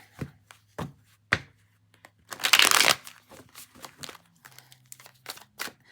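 Tarot cards are shuffled by hand in several short riffling bursts, one longer and louder flurry in the middle, with quiet pauses and light handling noises between.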